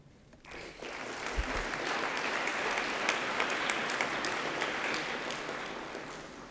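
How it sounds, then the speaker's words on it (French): Ceremony audience at a doctorate and HDR diploma presentation applauding the new graduates, clapping that swells in after a short quiet start and then holds as a broad, steady roar of many hands. "de les applaudir et de les féliciter"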